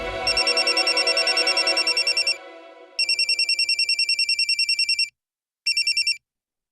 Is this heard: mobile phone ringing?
yes